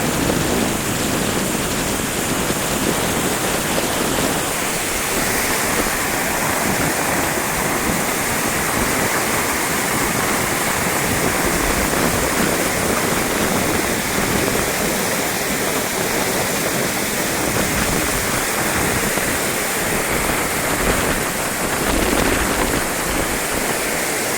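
Water roars over the brimming Andhali dam on the Man river, a loud, unbroken rushing wash that stays close and steady throughout, with no voices.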